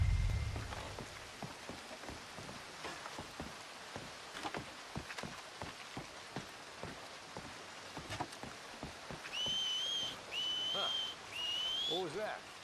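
Arthur from Red Dead Redemption 2 lets out three short, clear whistles near the end, cutting through steady rain that patters under scattered thumps and footsteps.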